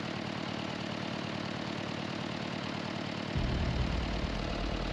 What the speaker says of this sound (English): This old tractor is completely trapped in deep mud, unable to escape as the engine noise continues echoing through the swamp.